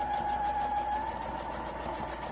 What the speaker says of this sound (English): you're sewing both of the body and the bottom together